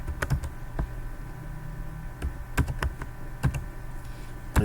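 Irregular clicks of keys being typed on a computer keyboard while building a web survey form, close by, in short bursts with brief pauses over a low background hum.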